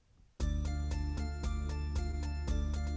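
The 'Toys' rhythm accompaniment on an electronic organ at tempo 115 plays a loud, steady, clipped pattern of beats with sustained harmonic tones, close and without any voice.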